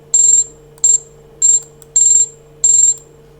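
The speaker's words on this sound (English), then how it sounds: "BTC alarms going off" A BTC price alarm beeps five times in bright, high-pitched pulses of roughly equal length at a steady rhythm, loud and clear over a quiet low hum with no talking.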